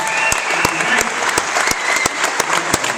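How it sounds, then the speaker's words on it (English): Crowd applause for a comedian at a Bay City theatre show, a dense sustained wash of clapping with some louder individual claps standing out in a regular pattern and faint voices underneath. "let a big round of applause for Rob Little"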